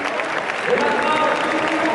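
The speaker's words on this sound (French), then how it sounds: "ils applaudissent, moi j'applaudis, respect" A crowd applauds at a France–Croatia football match, dense continuous clapping heard from within the stands, with voices talking over it.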